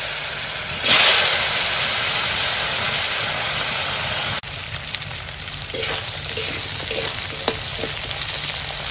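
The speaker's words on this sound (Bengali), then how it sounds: "সবজিটা বেশ খানিকক্ষণ ভেজেছি" Cut vegetables with green chilli and five-spice seeds fry in hot fish oil, a loud steady hiss that swells at first, then settles into sizzling with occasional stirring clicks.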